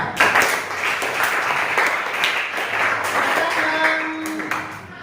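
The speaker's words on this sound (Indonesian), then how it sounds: "Ya sudah, tepuk tangan ya." Students in a classroom clap together in a dense, steady round of applause lasting several seconds, with a brief tone near the end.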